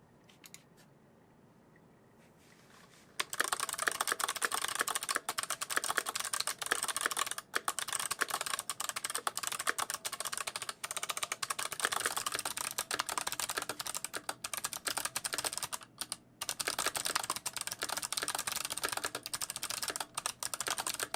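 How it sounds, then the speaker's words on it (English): Rapid, steady typing on a clicky CA66 mechanical keyboard with thick click switches and a hollow case, close and crisp, starting after a short quiet moment and running on with only brief pauses. "thick click switches for a satisfying clicky keyboard"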